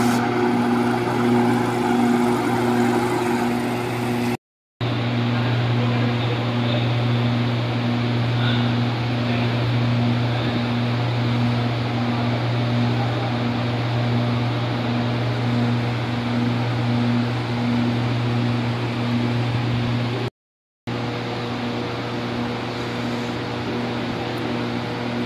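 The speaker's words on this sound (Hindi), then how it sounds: "यहाँ पे दो कूलर है, ये एक फ्रंट में लगा हुआ है, इसके पीछे के साइड में एक कूलर लगा हुआ है।" Symphony air coolers running in a canteen give a steady, loud mechanical hum with a constant low drone and airy fan rush that holds unbroken throughout.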